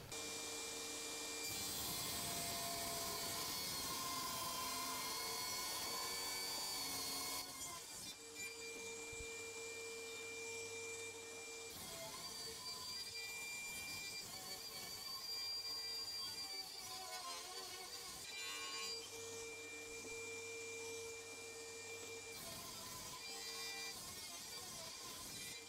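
A Dewalt cordless table saw cuts through 2x lumber, a loud, close whining blade in long sustained passes with dips between cuts and a lingering motor spin-down.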